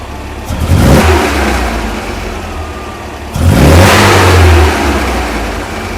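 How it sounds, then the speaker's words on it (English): Steyr Puch Pinzgauer 6x6 military utility vehicle engine revved twice close by, each rise in pitch swelling loud then easing back to a steady idle between. "All right, rev it up a couple times."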